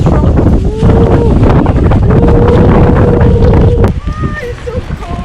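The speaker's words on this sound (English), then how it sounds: "the wind is so strong" Strong, cold wind roars and buffets the microphone continuously on a river boat tour in Ninh Binh, Vietnam, a loud rumbling gust with a faint engine-like hum underneath.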